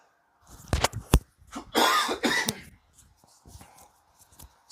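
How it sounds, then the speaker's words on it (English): A few sharp, close coughs in quick succession, followed by a rougher, drawn-out hacking burst, then quiet shuffling. "I got a cough."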